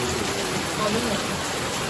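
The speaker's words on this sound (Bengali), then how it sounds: "এই যে বাইরে বৃষ্টি হচ্ছে" Steady rain falls outside, a soft continuous hiss that fills the whole moment without pause, fairly close and even in level, with no voices on top of it.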